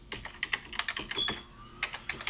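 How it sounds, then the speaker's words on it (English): Quick, irregular clicks of typing on a computer keyboard while a domain address is entered, close and clear with short pauses between bursts of keystrokes. "you can test that out by typing in your domain."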